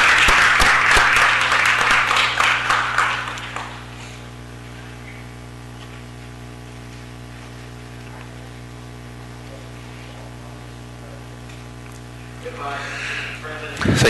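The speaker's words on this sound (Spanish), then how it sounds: "Por favor, démosle un fuerte aplauso." People at a city council meeting in Los Angeles give a brief burst of applause that fades out after a few seconds into a long stretch of humming room tone, with applause briefly rising again at the end.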